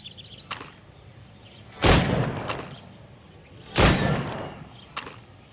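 Two loud, sharp gunshots crack out at targets in Assassin's Creed Rogue about two seconds apart, each trailing off in a short echo, with fainter clicks and thumps between them.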